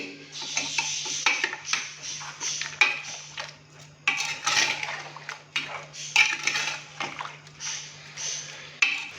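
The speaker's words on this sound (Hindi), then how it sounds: "पानी डालने के बाद अभी हम इसको अच्छे से मिक्स करेंगे।" A spoon stirs chana dal gosht in a metal pot, scraping and clinking against the sides in repeated uneven bursts with short pauses, fairly close and clear, with no speech.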